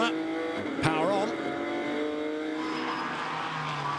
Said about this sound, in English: Drops it down through the gears, turns the car out the corner, power on.